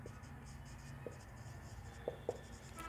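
Pen or chalk writing during a math lesson, faint scratchy strokes with a few soft taps, close and quiet over a low background hum.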